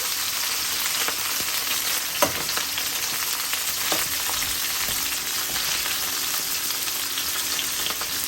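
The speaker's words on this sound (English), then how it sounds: "Now I'm just going to flip each one of them over, make sure the other side gets cooked." Shrimp frying in a pan after being turned over, a constant close sizzle broken by a few sharp clicks and taps from the utensil, with no talking.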